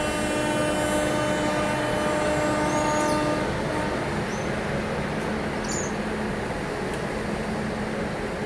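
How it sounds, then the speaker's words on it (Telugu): A train rolls past on the adjacent track, a steady, dense rumble with a faint whine that holds level and close throughout. "అక్కడి నుంచి మరో ట్రైన్ వచ్చింది,"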